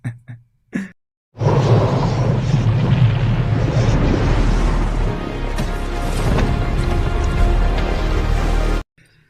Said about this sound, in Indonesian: dia berhasil mengendalikan angin sehingga terjadi ledakan di kapal ini